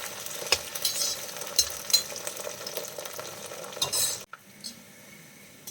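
Okra frying in oil with dried red chillies, a crackling sizzle with spatula scrapes and metallic taps against the pan, close, dropping abruptly to a quieter sizzle near the end, no voices.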